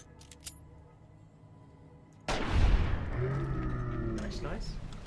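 Heavy burst of gunfire in Fallout New Vegas, a loud sustained volley kicking in after a quiet stretch of faint game ambience, with voices talking underneath.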